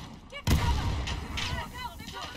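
AK rifle fire in the video game Modern Warfare: a loud, sharp shot burst followed by sustained rattling gunfire with echoing tails, close and dominant, with a voice talking underneath.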